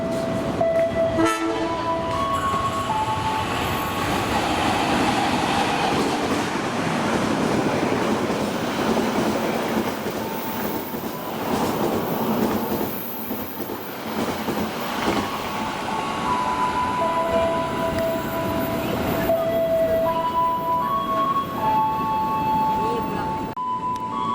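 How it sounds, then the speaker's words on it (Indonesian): A passenger train, the Dharma Wangsa 166 with an MP1 dining and power car, rolls past close by with a loud continuous rumble, rhythmic clacking over rail joints and sustained horn tones, while a voice talks over it. "Berikutnya kereta api Dharma Wangsa 166 yang memakai kereta makan pembangkit berjenis MP1"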